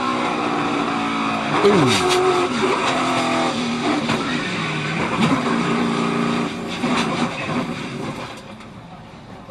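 NASCAR race cars at Daytona roar past at speed, with engine whines sweeping up and down, bursts of tire noise and a brief crash, under a commentator's excited talk.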